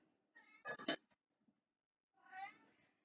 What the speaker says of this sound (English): My cat is giving her 2 cents worth.